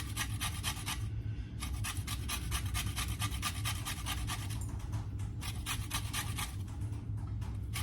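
A lemon being zested on a small hand grater, giving continuous rapid rasping scrapes in quick repeated strokes, close and steady with a short pause partway through.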